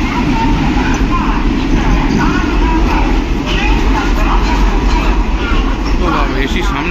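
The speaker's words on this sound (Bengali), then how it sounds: "এই যে আমাদের ট্রেন ঢুকে গেল।" An Intercity passenger train rolls into a station platform with a heavy, continuous rumble and rattling wheels close by, while voices murmur over the noise.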